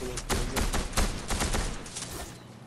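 Rapid burst of gunfire from the Fortnite video game, a dense run of loud, closely spaced shots lasting a few seconds, close and prominent with no talking.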